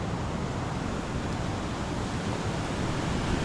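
Ocean surf rolling onto a beach at Corcovado National Park, Costa Rica, a steady, dense wash of waves and wind noise that fills the whole clip without pause or voices.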